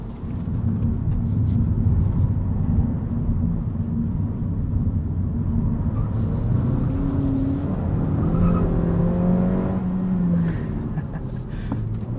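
A Honda Civic hatchback in sport touring trim accelerates and revs, its engine pitch climbing and shifting through gears, loud and close, with a rushing road and wind roar underneath.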